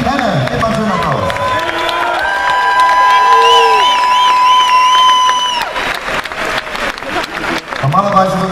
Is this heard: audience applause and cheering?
yes